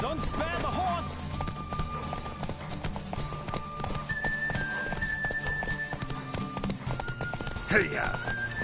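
Hoofbeats from a galloping horse in The Witcher 3: Wild Hunt race along steadily beneath game music, with a voice speaking over the ride and a brief louder accent near the end.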